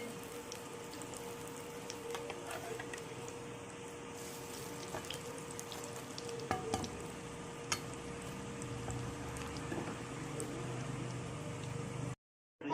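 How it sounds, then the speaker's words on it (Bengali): Red lentil fritters fry gently in oil over a low flame, a quiet, even crackle with scattered small pops and a couple of sharper taps, ending in a sudden cutoff. "এরকমভাবে হালকা ফ্লেমে ভাজতে হবে"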